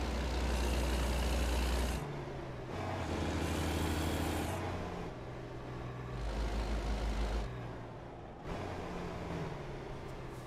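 A heavy truck in American Truck Simulator driven with a manual shifter, its low engine drone rising and falling as gears change, with breaks between revs and a hissing air release, loud and close with no talk.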